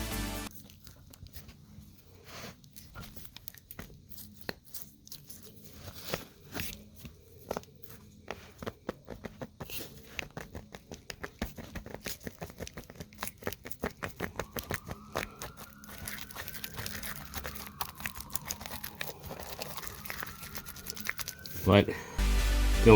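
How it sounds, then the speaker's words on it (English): A worn inner tie rod on a 2001-2007 GMC Sierra HD pickup clicks and pops as the wheels turn, a close series of irregular sharp ticks and crackles that speed up and thicken over time, with a faint whine rising late. "this tie rod, back in here, the inner tie rod, started clicking and popping"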